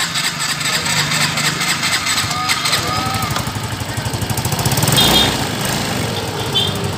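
A Yamaha Mio M3 scooter engine idles steadily after starting, with a rapid, even putter throughout and a brief rise in level about two-thirds of the way in. The engine is heard close up.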